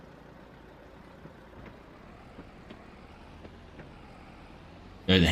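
A steady low truck engine idles and rumbles in Farming Simulator 25, with faint ticks over the drone and a sudden loud burst at the very end.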